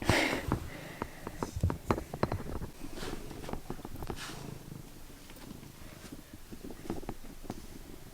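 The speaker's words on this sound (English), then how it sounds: "He's a very purry guy." A purring cat sniffs close by, short nose snuffles and rustles over a steady soft purr, loudest in the first few seconds and continuing more quietly.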